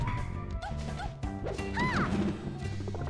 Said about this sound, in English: Keeping up the pressure with these down smashes.